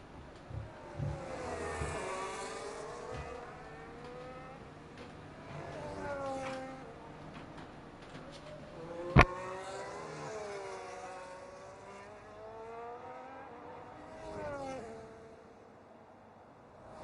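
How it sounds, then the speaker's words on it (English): Race cars in a simulated racing event at Hungary driving out onto the track, several engines rising and falling in pitch as they rev and pass, moderately loud with one sharp click midway. "Everyone making their way out onto the track"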